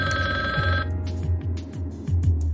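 A payphone rings loudly in the Resident Evil Survivor game, a sharp electronic trill that cuts off after the first second, followed by low rhythmic thumps and faint clicks.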